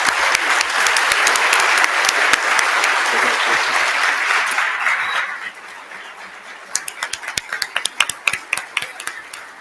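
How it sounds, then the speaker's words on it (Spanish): Audience at an electoral reform forum at the Guadalajara International Book Fair gives a dense, loud round of applause that thins after about five seconds into scattered individual claps. "Yo creo que lo tenemos que despedir con un gran aplauso."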